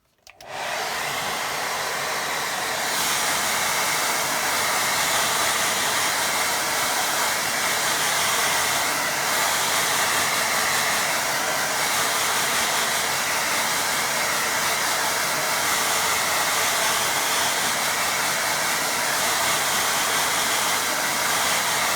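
A hair dryer blows on a watercolour painting, starting abruptly and then holding a loud, steady rushing whir for over twenty seconds, with no voices.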